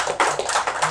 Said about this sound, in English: he should get a lot of applause as much as possible for this cause.